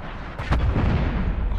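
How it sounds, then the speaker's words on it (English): Incoming artillery strike in a video game, a burst of booming explosions that swells into a dense, rumbling roar of impacts and debris, loud and close, continuing without pause to the end. "Artillery inbound."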